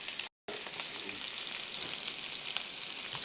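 Onions, capers and a head of roasted garlic fry in a pan for shrimp scampi, giving a steady, close, crackling sizzle. The sound drops out briefly near the start.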